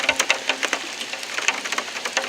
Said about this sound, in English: So the rain's starting to pick up.